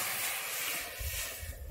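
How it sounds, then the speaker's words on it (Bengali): Water poured into a hot kadai after spices are cooked, giving a sharp, close steam hiss that gives way to a low bubbling rumble. "কড়াইতে আমি জল দিয়ে দিচ্ছি।"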